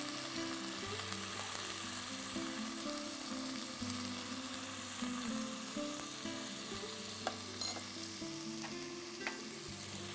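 Raw plantain, bitter gourd and eggplant fry steadily in hot oil after a tempering of mustard seeds, asafoetida and curry leaves, with occasional stirring clinks, continuous and close with no talking.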